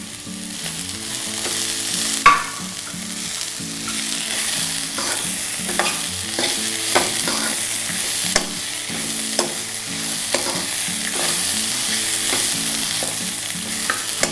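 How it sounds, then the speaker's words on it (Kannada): Mixed vegetables with capsicum stir-frying in a pan for vegetable upma, a steady loud sizzle running throughout with repeated sharp scrapes and knocks of a spatula stirring, no voices. "ಈ ಥರ ಇಷ್ಟೇ ಫ್ರೈ ಮಾಡಿದ್ರೆ ಇದೊಂದು ಪಲ್ಯ ಕೂಡ ಆಗುತ್ತೆ ನಿಮಗೆ, ಮಿಕ್ಸ್ ತರಕಾರಿಗಳ ಪಲ್ಯ."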